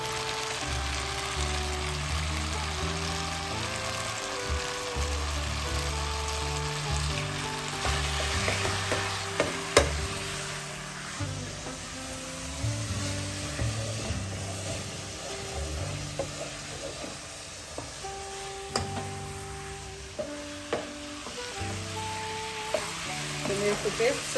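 Tomato paste sizzles and fries in a pot inside a Ramtons RM 582 electric pressure cooker while a spoon stirs it, steady crackling with scraping strokes throughout, close and continuous with no talk.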